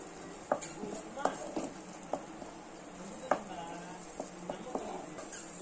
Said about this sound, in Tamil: இப்போ வந்து நம்ம அதோட 1/2 கப் வந்து பால் சேர்த்துக்க போறோம்.